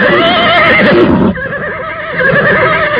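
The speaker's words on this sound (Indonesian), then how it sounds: "Seekor kuda hitam yang gagah meringkik keras" A black horse neighs loudly in a radio drama sound effect, a long, strong whinny with wavering pitch that breaks off and then carries on in a lower, shakier call, up close and dominant.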